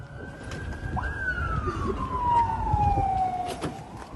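An ambulance siren wails at a distance in earthquake-hit Marash, Turkey, its pitch sliding slowly downward, over low background noise and traffic rumble.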